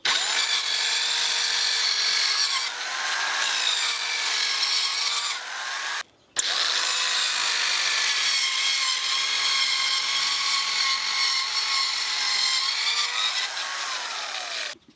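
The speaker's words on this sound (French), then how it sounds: "Une mini scie circulaire 580 watts." A mini circular saw rated at 580 watts, running off an EcoFlow River Pro battery station, whines loudly and steadily through a cut, stops briefly, then restarts and keeps cutting close up.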